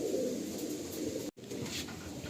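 Pigeons coo softly in a loft, low murmuring calls blending into a steady hum of room noise, with a short break partway through.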